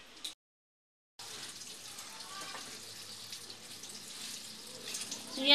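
Sweet potato leaves washed by hand under a running kitchen tap, a steady close splash of water falling into a sink with brief rustling, starting after a short silent gap.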